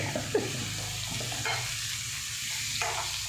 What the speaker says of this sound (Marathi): मिरची टाकली, कांदा टाकला, जिरे मोहरी टाकली, कढीपत्ता टाकला, हिंग टाकला.